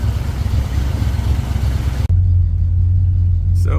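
The engine of a 1972 GMC Suburban three-door rumbles steadily and loudly up close as a drive begins, shifting briefly to a lower idle-like hum partway through.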